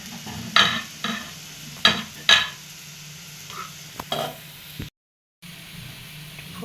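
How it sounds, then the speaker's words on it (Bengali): Potatoes and vegetables cook in water in a covered pan after frying, with a low bubbling, sizzling bed of sound and several sharp metallic clinks of a utensil against the pan, close by, broken by a brief silent gap. "ফুটে আসছে"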